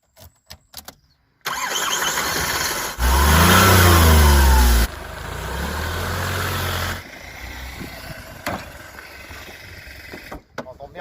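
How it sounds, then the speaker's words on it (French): A Smart Forfour engine cranks and catches, then revs loudly for a couple of seconds before settling to a steadier idle, followed by quieter knocks and handling sounds. "Démarrage."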